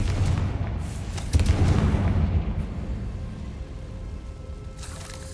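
A Confringo fire spell from the Hogwarts Legacy video game goes off as a booming blast, a heavy burst near the start followed by sustained rumbling with no speech.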